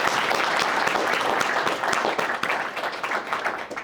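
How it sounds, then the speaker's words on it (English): An audience at a sport management summit applauds Bill Hancock, a dense, sustained clapping from a sizeable crowd that stays loud and then begins to thin and fade toward the end. "let's give Bill Hancock a round of applause again"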